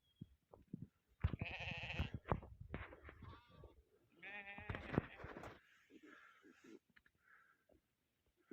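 Mixed herd of sheep and goats bleating on a road in Ladakh: several overlapping bleats from nearby and farther off, with quieter gaps between the calls.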